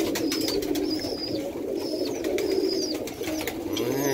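Tippler pigeons coo in a loft while parents feed their babies, a continuous low murmuring coo with thin, high squeaky calls repeating over it, close by.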